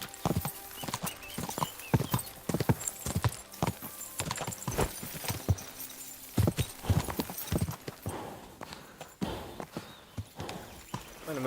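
Horse hooves clip-clop steadily in Kingdom Come: Deliverance II, a medieval video game. The beats are close and fairly quiet, irregular and continuous over a faint ambient bed.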